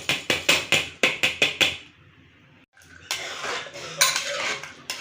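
A metal spoon knocks repeatedly against a pot of rice in boiling water in quick strokes, then softer scraping and stirring sounds follow.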